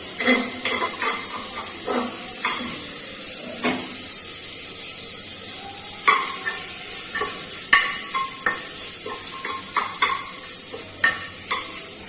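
Chicken with spices including coriander powder is stirred and sautéed in a pan, with a steady close sizzle broken by frequent scraping and clattering strokes of a utensil against the pan, no talking.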